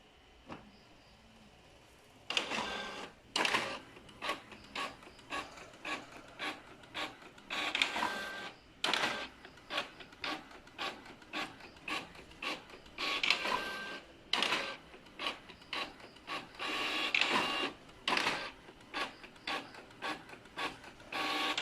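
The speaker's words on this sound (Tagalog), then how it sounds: "print na natin." A printer prints pages with a repeated series of rasping, clattering mechanical passes, each followed by a short pause, close and fairly loud with no voices.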